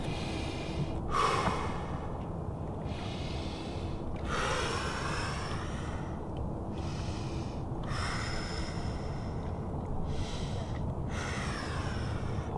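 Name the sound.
deep breathing during a stretch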